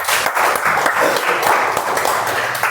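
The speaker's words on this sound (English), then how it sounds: "let's have a big round of applause for it" An audience claps steadily at a Toastmasters club meeting, a dense continuous round of applause that holds at the same level throughout with no voices rising above it.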